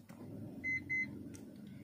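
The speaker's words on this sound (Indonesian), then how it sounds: "di bagian pintu akan terbunyi suara bip gitu ya, 2 kali bip bip seperti itu" Two short, clear electronic beeps from the sliding side door of a 2017 Toyota Sienta G M/T, sounding close in quick succession over a low steady background hum.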